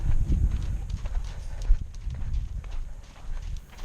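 A horse's hooves walk slowly in a round pen, giving a close, irregular clip-clop of soft thuds on the ground as the horse drifts to a stop, with no talk.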